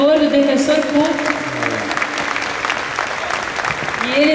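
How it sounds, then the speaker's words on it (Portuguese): Audience at a legal panel discussion clapping in a hall, steady applause running throughout while a voice and some low tones sound beneath it, swelling again near the end. "Eu gostaria de pedir uma salva de palmas"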